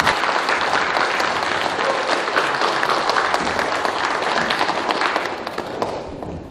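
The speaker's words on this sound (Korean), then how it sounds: "환영의 박수로 한번 모시겠습니다." Church congregation clapping to welcome missionary Kim Ki-seon to the pulpit, dense sustained applause filling the room at an even level, thinning and tapering off at the end.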